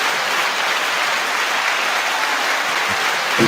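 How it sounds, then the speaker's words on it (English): Audience applause for a guest at a hip hop culture panel event, a steady, even wash of many hands clapping, close and sustained with no talk. "9-second applause."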